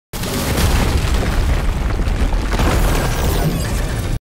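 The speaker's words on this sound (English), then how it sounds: "a suicide bomber detonates a bomb inside the bar where Among and Hank are sharing a drink." A bomb detonates inside a bar in an animated series, a loud, continuous roaring blast that fills the whole moment with heavy low rumble and debris noise, then cuts off abruptly.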